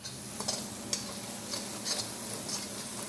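Spoon stirring chilli flakes, Ajinomoto and spices through chilli paneer in a pan, a steady soft scraping with faint sizzle and a few brief clicks, no talking.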